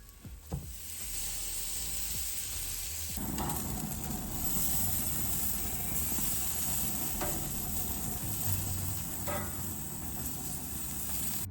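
Buns heating in a pan, giving a steady close sizzle and crackling hiss that starts abruptly a few seconds in and continues throughout, with faint stirring or scraping noises.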